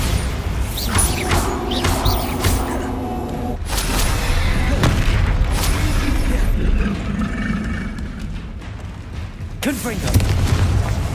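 Bombarda blasting spell in Hogwarts Legacy, heavy booming explosions with crashing, shattering debris over continuous rumbling combat noise, with voiced spell calls mixed in.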